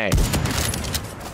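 Nail gun fired in a video game, a quick burst of sharp popping shots in rapid succession, close and loud over a short moment with no talk.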